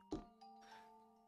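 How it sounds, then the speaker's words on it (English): A doorbell rings once in the horror game The Supper, a short soft two-tone chime with a small knock at the start and a gentle ringing tail, faint and heard alone. "I can ring the doorbell."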